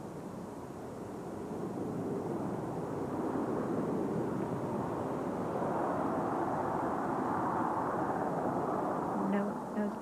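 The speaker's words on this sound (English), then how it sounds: "mission STS-42 rolls out on runway 22 at Edwards Air Force Base, California" Space shuttle STS-42 touching down and rolling out on runway 22 at Edwards Air Force Base, California, a steady broad rumble of rushing air and roar that swells slightly and holds loud throughout.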